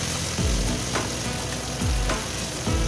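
Ground paste of ginger, garlic, onion, tomato and dried chilli sizzles steadily in a pan with jackfruit, a continuous close frying hiss broken by a few scraping stirs.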